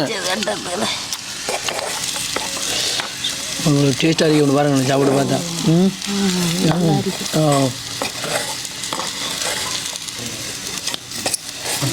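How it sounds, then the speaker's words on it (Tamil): Onions, chili and curry leaves frying and stirred in a pan, steady sizzling with spatula scraping, while voices talk briefly over it partway through. "நல்லா பொறிஞ்சு வந்துட்டு நல்லா வதக்கிட்டோம்"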